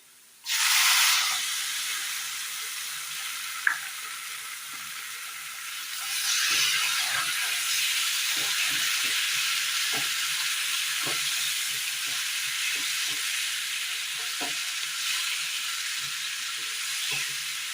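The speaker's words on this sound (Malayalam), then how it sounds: "ഇതിലേക്ക് അരച്ചു വെച്ചിരിക്കുന്ന തക്കാളി ഒഴിച്ചു കൊടുക്കാം" Ground tomato paste is poured into a hot spice mix in a pan, setting off a sudden loud hissing sizzle that eases, then swells again into a steady bubbling hiss with small pops.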